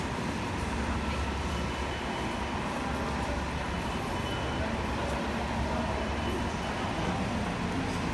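A New York City subway train rumbles at Coney Island station on a rainy day, a continuous loud broadband roar of wheels and rail noise with no clear speech.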